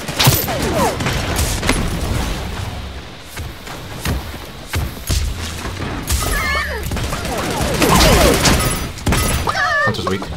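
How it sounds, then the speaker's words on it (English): Gunfire in the video game Realm Royale Reforged during a trios match, rapid bursts of shots with shattering impacts and thuds, loud and up close, with players talking over the action. "Shooting."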